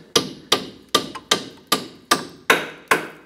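Eight sharp metal hammer taps at an even, steady rhythm while a strut spring sleeve is driven into place during a rear strut and spring assembly replacement on a 2005-2007 Ford Five Hundred; each strike is close, loud and ringing briefly.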